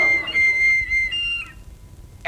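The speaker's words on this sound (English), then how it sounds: "You just take that bung out and blow down it. It makes a whistle sound below." A shrill, steady whistle blown down a ship's voice pipe holds its pitch for about a second and a half, then cuts off, leaving near silence.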